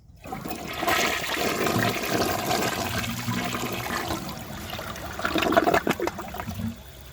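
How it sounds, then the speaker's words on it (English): A 1998 Western Pottery Clinton toilet flushes nearby, a loud rushing swirl of water that holds steady for several seconds, then surges again and trails off into a gurgling drain. "If it rinses then, it should rinse when it's flushing."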